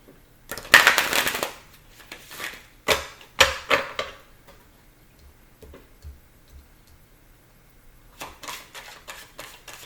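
Tarot cards being shuffled nearby in quick riffling bursts, several short rustling flurries separated by quiet gaps, then a final softer flutter.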